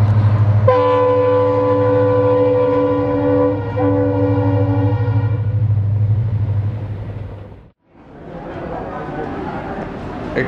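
Deccan Queen express on Indian Railways near Pune sounds a long, loud multi-tone horn blast over a heavy rumbling locomotive and coaches, then the rush of passing wagons after a brief drop.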